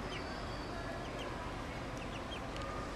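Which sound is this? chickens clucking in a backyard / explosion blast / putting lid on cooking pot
chickens clucking in a backyard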